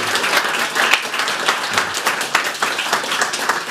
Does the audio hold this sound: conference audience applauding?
yes